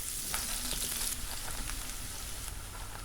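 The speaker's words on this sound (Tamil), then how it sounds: "இப்போது 1 கப் வெங்காயத்தையும் சேர்த்து நல்லா வதக்கி எடுத்துக்கலாம்." Chopped onions with garlic sauté in sesame oil in a saucepan, giving a soft, continuous sizzle and crackle with occasional faint stirring scrapes, heard close but quiet and without talking.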